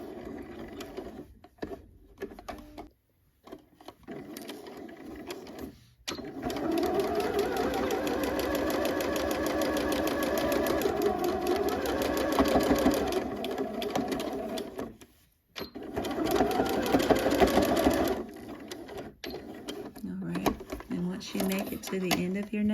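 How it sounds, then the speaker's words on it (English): A home sewing machine straight-stitches a knit neckband at a half-inch seam allowance on a mock-neck bell-sleeve top. The close, steady motor whir runs in two long stretches with a short stop between them. "I'm gonna just stitch down the length of the neckband at 1/2 inch seam allowance."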